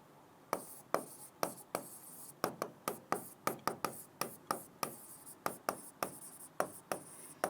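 Chalk or marker writing on a board during a physics lesson, a rhythmic series of crisp close taps and short scratchy strokes, about twenty in quick succession with no talking.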